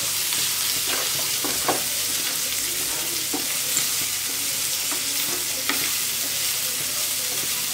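Spices frying in a pan for cabbage, potato and pea curry, stirred with salt added; a steady close sizzle runs throughout, with scattered scraping clicks of the spoon against the pan and no talking.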